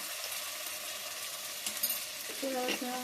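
Ginger garlic paste frying in a pan for crab curry, a steady close sizzle with some stirring scrapes and clinks toward the end.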